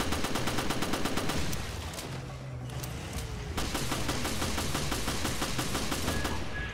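Rapid fully automatic bursts from a G18 handgun in a co-op Resident Evil mode, dense rattling fire with a brief lull midway before firing resumes, loud and close against game background sounds.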